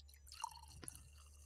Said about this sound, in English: ASMR wine pouring